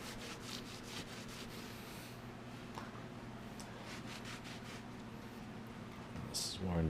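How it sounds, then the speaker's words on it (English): Steady, faint rubbing and scraping of sanding on a DDR arcade cabinet, repeated strokes over a low electrical hum, getting slightly louder at the end. "You could just try sanding the rest of it down."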